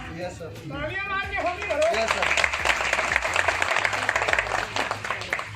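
A voice speaks briefly to a gathered audience, then dense applause rises and continues steadily, with talk carrying on beneath the clapping.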